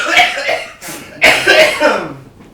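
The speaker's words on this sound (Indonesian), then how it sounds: "Batuk gue." A couple of sharp, close coughs in quick succession, with a bit of voice around them.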